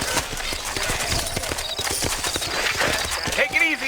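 Steady clip-clop of horse hooves throughout in the video game Red Dead Redemption, with people talking over it and a horse whinnying briefly near the end.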